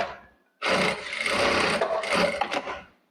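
A Jack A4 straight-stitch industrial sewing machine starts a seam, its motor and needle kicking in abruptly into a steady, loud, dense whir that runs for about two and a half seconds with slight fluctuations.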